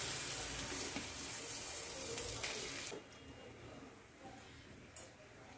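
Tap water runs over capsicum, cashews and raisins in a steady close rush for about three seconds. It then cuts off, leaving a few faint clinks and splashes.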